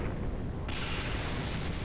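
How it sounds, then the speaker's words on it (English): A massive explosion in the video game Dragon Ball Xenoverse 2 roars as a dense, sustained blast that swells louder partway through and keeps rumbling without any voices. "You were afraid of being caught in the explosion."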